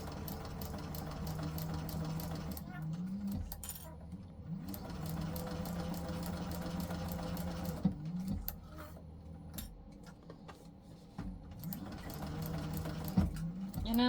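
A sewing machine stitching around the seam of a fabric bag, running in steady whirring bursts that stop briefly and start again, close and alone.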